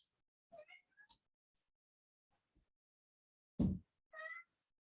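A cat meows in short, faint calls in a quiet room, several brief mews spaced apart, then a louder low thump followed by another meow.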